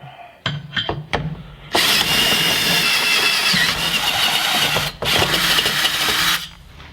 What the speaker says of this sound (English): Then I'll use the 5/16 drill bit.